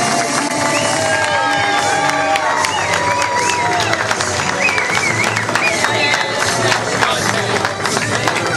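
Crowd at a residents' block association celebration applauding and cheering, with whoops and shouts rising over dense sustained clapping, loud and continuous.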